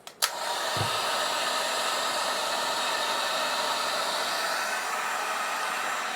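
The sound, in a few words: heat gun running on power inverter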